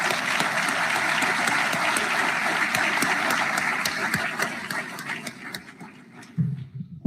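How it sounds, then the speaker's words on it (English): An audience at a Pennsylvania defense and innovation summit gives a round of applause, dense steady clapping that carries on loudly before thinning out and fading near the end. "let's give everyone who put this incredible event together a round of applause,"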